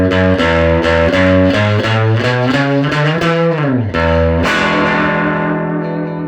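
An electric guitar plays a lick to close out a blues walk-up, with quick picked notes through a slightly distorted, effected tone, bending into a final ringing chord that sustains and fades.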